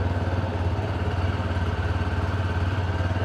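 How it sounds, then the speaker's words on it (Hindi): A TVS Star City Plus 110 cc motorcycle idles close by, its engine giving a steady, low, evenly pulsing thrum with a light mechanical clatter and no rise in revs. "इसका इंजन साउंड सुनिए"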